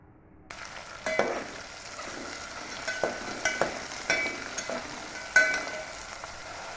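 Mixed vegetables tipped into hot oil for a vegetable pulao khichdi, frying with a crackling sizzle as a spoon stirs and scrapes the pan in irregular strokes, near and alone.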